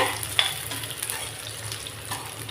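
Garlic, curry leaves and dried chillies crackle in hot oil while being stirred, a steady sizzle broken by light scraping and a sharp pop early on; no voices.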